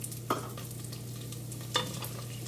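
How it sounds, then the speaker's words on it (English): Basmati rice toasting in oil in a pan on the stove: a steady, soft sizzle with a couple of brief scraping stirs from a spoon, close and fairly quiet. "we're going to toast the rice"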